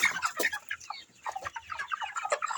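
Broiler chickens cluck and chatter in a busy, overlapping stream of short calls, close by and fairly loud, with no talking over them.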